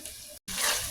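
Water being poured into a pan of pork cooking with bitter gourd, a short splashing hiss with a brief gap in the middle, close and fairly faint.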